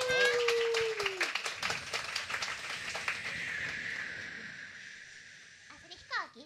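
An audience at a live music show breaks into applause, loud at first and then thinning out and fading over several seconds, with a brief voice and tone at the start.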